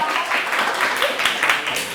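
A small audience claps for a school principal during a talk session, producing a brief, even patter of applause that lasts about two seconds.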